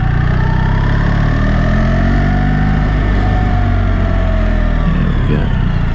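A new BMW GS1300 motorcycle on a shakedown ride, its engine droning loud and steady with a low rumble and shifting pitch as it runs along, with no talk.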